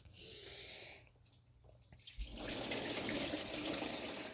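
Engine coolant from a 2010 Toyota Corolla 1.8 pouring out of a drained hose into a jug, a soft trickle and splash that swells into a steady, fuller gush partway through, close by with no talk.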